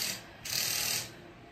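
A ratchet clicks in short quick runs while bolts are tightened on a new wheel being fitted, a close, brief mechanical ticking heard alone.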